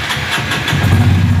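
A Honda Fan 160 motorcycle with a noisy engine cranks and catches, the starter whirring briefly before the engine fires and settles into a loud, close idle.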